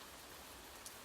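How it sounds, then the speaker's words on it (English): Soft, steady rainfall hisses evenly at low volume, with a faint patter of drops on a surface and a single brief tick near the end, heard alone without talk. "Allow the sound of the rain to blend with your breathing"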